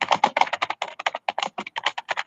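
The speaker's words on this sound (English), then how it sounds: "He is like typing with so much anger and fury." Rapid, forceful typing on a computer keyboard, dozens of sharp key clicks in a fast uneven stream, very close and loud with no voices.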